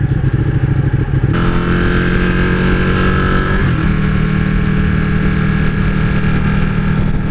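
A Ducati Panigale 955 cc motorcycle engine runs loud and close at steady road speed, with its pitch shifting as it moves through the gears around 4,000 RPM, with constant rumbling and wind noise throughout.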